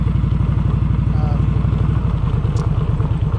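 An Indian Scout cruiser motorcycle rides over a rough, gnarly road, its engine giving a loud steady rapid thumping pulse close up with rattling under it throughout.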